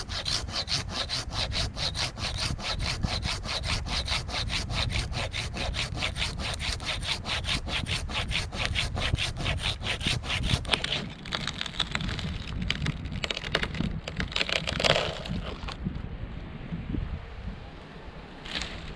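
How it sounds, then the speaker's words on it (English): A handsaw cuts through a tree stem during a dangerous tree removal, with quick, even strokes rasping close and loud for about fifteen seconds before the cut finishes and the sawing stops. "I'm going to finish it with a handsaw"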